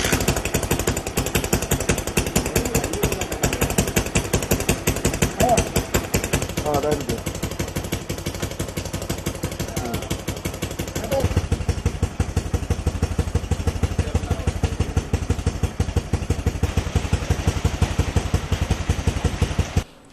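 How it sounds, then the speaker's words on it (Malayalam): A simple irrigation water pump set runs off a motorcycle engine while the bike stands on its stand in a field. It makes a continuous, rapid, loud mechanical chatter that throbs steadily for the whole stretch. "ബൈക്കിൽ ഘടിപ്പിച്ച ലളിതമായ ഒരു പമ്പ് സെറ്റാണിത്."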